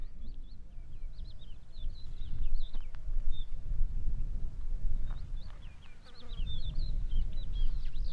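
Insects buzzing continuously outdoors in Baja, a steady near drone mixed with chirping birds and breezy rumble in the background.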